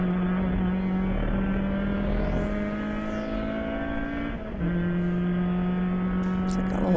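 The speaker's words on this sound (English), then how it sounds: "Nice clean downshifts there." A race car engine drones loudly in an endurance race at Sebring, its steady pitch stepping down through downshifts and then settling into another held note, with no voices.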